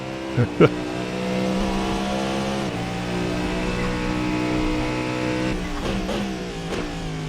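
A Cadillac V-Series.R hypercar in Assetto Corsa holds a loud, steady, high-pitched engine drone with shifts in pitch as it changes gear and a couple of sharp bumps early on, with someone talking over it.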